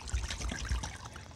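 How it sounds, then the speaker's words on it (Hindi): Water pours from a bottle into bowls as a steady, soft trickle at close range, with no talking. "पहले दोनों में पानी भर लेते हैं।"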